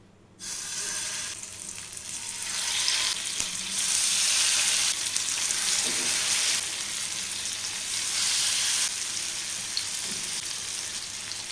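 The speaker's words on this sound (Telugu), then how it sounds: "ఇప్పుడు కలిపి పెట్టుకున్న చేప ముక్కలను అయితే ఆయిల్లో వేసేద్దాం" Marinated fish pieces fry in hot oil in a pan, a loud, close, continuous sizzle that bursts up as they go in and keeps crackling steadily, swelling and easing in waves, with no talking.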